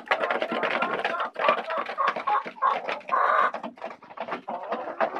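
Hisex, Leghorn and Jersey Giant laying hens clucking continuously close by in an enclosure, overlapping cackles and calls with no pauses.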